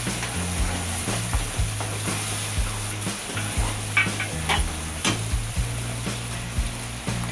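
Onion-garlic masala, ginger-garlic paste, turmeric and ground coconut sautéing in a pan: a continuous close sizzle with frequent spatula scrapes, under a steady low hum, no voices.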